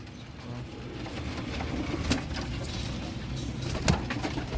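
Ring-eyed pigeons coo softly in a loft, low repeated calls near and moderately quiet, with a couple of sharp clicks or knocks breaking through the background.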